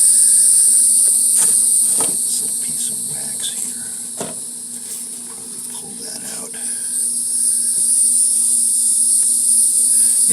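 A dense, steady hum of honey bees buzzing close by at the hive, with occasional soft clicks and rustles mixed in.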